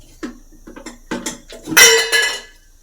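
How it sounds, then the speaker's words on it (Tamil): A pressure cooker being set down on a stove makes a quick series of close, metallic clanks and knocks, with the loudest rattles near the end. "குக்கரை வச்சுக்கலாம்."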